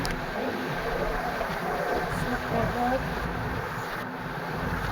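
Steady rumbling roar of a moving train heard from inside, continuous and loud, with wind noise and a voice faintly underneath.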